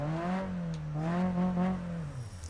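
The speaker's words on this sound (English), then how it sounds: "the sound of the cars, it's all recorded accurately" Car engine in the Japanese Drift Master video game, a steady droning hum with harmonic tone that rises and falls gently, holding close and moderately loud before easing off at the end.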